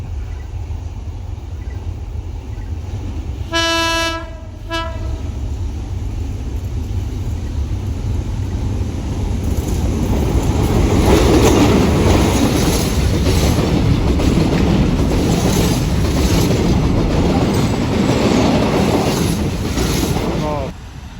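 A train horn sounds briefly, then a Thai passenger train rolls past nearby on a curve, its rumble and clickety-clack swelling loudly before easing off.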